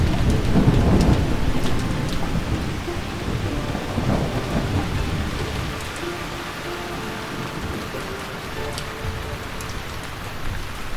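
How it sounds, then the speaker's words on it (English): Steady rain pours down with deep rolls of thunder, loudest near the start, then a continuous drenching downpour with scattered drips. "The overdue rainy season finally arrives."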